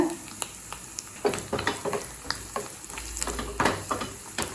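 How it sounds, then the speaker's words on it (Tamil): Cashews and small coconut pieces fry in ghee in a kadai for payasam, a steady close sizzle broken by a series of sharp scraping stirs and light metallic taps, with no talking. "கடாயில் தேவையான அளவு நெய். இப்போ கொஞ்சமாக முந்திரி சேர்த்துக்கலாம். கொஞ்சமாக தேங்காய் சேர்த்துக்கலாம்."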